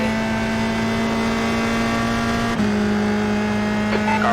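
A USF 2000 open-wheel race car in the iRacing simulator drones on a steady high engine note around the Charlotte Roval, loud and close throughout, with a brief shift in pitch partway through.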